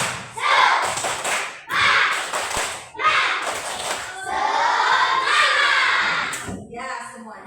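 Schoolchildren in an elementary classroom perform the tepuk semangat, a rhythmic clapping chant, in several loud bursts of shouted voices and claps with brief pauses between them.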